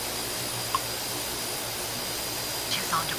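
A steady broadband roar from an airliner's jet engines during takeoff in Tower Simulator 3, sustained and moderately loud, with faint brief blips over it and a radio voice speaking.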